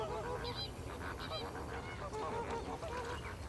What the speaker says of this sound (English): 1 million lesser flamingos.